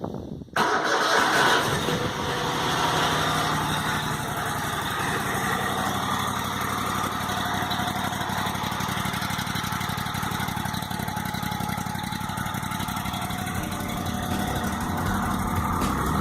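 An Exmark lawn mower engine starts abruptly and then runs at a steady, fairly loud idle close by. Its exhaust has just been repaired. The drone carries on unchanged for about fifteen seconds, with no talking over it.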